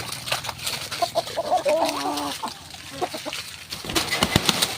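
Chickens on a poultry farm give a few short clucks amid a busy, noisy background of farm sounds and scattered voices.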